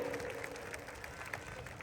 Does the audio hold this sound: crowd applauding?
yes